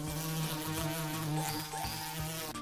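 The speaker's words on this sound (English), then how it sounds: "Have you heard the buzzing of the bees?" Bees buzz in a loud, steady, continuous drone that holds without a break, close and alone with no voices.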